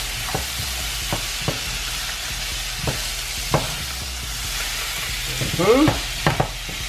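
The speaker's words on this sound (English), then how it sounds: "And then we're gonna mix that thing up." A marinade with a dash of white vinegar is mixed for butter chicken, giving steady wet stirring and scraping with a few sharper clicks of the utensil against the bowl, fairly close and with no talk.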